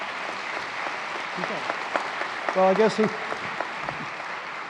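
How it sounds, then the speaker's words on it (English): Audience applause at a Lakeland Concert Band show, a steady wash of clapping that runs the whole time, with someone talking over it. "Let's have another round of applause for our wonderful singer."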